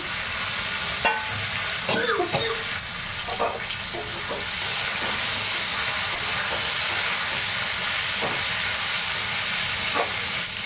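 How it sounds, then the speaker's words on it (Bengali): Tomatoes going into a frying pan for a katla fish curry with vegetables, making a loud, constant hissing sizzle over about ten seconds, with a few scattered scraping and clattering sounds of stirring nearby and no speech. "লাস্টে টমেটো দেবো। টমেটোগুলো দিয়ে দিচ্ছি।"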